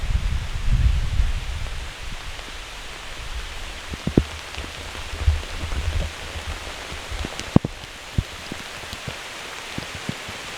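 Heavy rain pours down steadily at a kayak campsite during a thunderstorm, a constant dense hiss with scattered louder drops and knocks, plus some low wind rumble early on.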